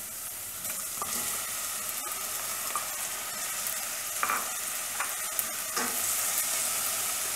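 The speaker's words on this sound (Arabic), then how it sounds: "من بعد ما كتشحر شويه البصله" Onion sautés in oil in a pan with a steady close sizzle, broken by occasional utensil taps and stirring scrapes, and no voices.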